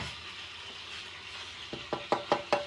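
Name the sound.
stuffed bread sandwich frying in a pan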